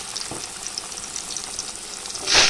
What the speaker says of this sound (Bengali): তো এই তেলে বেগুনগুলো আমি ভেজে নেবো